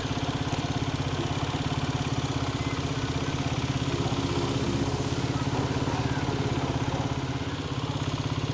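A farm tractor engine idles and chugs nearby on a rural road, a steady rhythmic low putter that holds at a moderate level and fades slightly near the end, with no talking.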